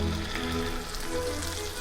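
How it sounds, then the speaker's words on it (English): Chicken laid in a hot pan sizzling steadily, a soft continuous crackling hiss close by with no talk. "Nice little sizzle on there."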